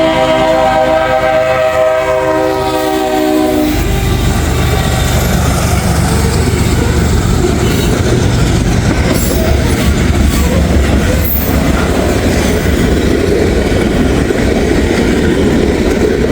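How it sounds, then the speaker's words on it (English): A Norfolk Southern freight train rumbles past up close and loud, a horn blaring briefly at the start, then steady wheel clatter and grinding carrying on throughout. "I got a Norfolk Southern train coming"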